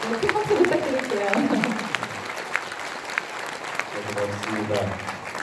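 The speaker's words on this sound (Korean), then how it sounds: "큰 박수 부탁드릴게요" Audience applause at a book launch event marking a centenary commemoration, steady moderate clapping from a seated crowd under a speaker's amplified voice, with the clapping swelling again near the end.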